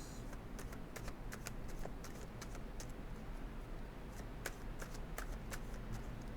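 Cosmic reading cards shuffled softly with light, quick ticking flicks scattered over a steady background hiss, faint and close.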